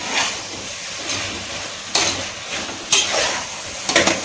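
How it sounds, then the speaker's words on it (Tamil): Washed potatoes stirred into masala in a pan for vegetable biryani, with a soft steady sizzle broken by a few sharp spoon scrapes and clacks against the pan, close and without talk. "ஸோ வந்து இந்த மசாலாவோட நல்லா மிக்ஸ் பண்ணிக்கலாம்."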